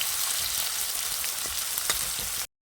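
Potato frying with ginger paste in a pan, a soft steady sizzle with scattered light crackles and pops that stops abruptly near the end.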